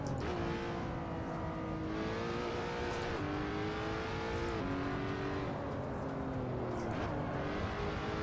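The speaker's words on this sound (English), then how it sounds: "Just put the Formula 1 engine in it." Formula 1 engine in a racing video game car, a continuous high-pitched whine that climbs through several gear shifts and drops sharply between them, loud and steady throughout with no talk.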